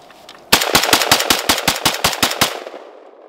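A Zastava M70 AK rifle fires a rapid string of about a dozen loud, sharp shots outdoors in snow, each crack evenly spaced and close, the echo fading after the last round.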